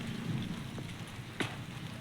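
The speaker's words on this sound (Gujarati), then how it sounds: "અત્યારે ધીમે ધીમે તો છાંટા આવવા માંડ્યા છે" Light rain begins in Chalala town under gathering storm clouds: soft, sparse patter of first drops over a low wind rumble, with a single sharper tap standing out, faint and open-air.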